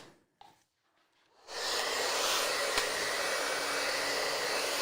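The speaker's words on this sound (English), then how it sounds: "I'm going to blow dry real quick to smooth the hair out" A handheld hair dryer switches on after brief quiet rustling and then blows steadily and loudly at close range while hair is smoothed before a haircut.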